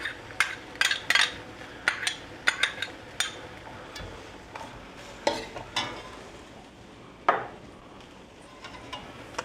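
Garlic sizzles in a hot pan for a ramen dish while a utensil stirs it, making repeated sharp scraping clinks over a steady frying hiss, close and fairly loud, with no talk.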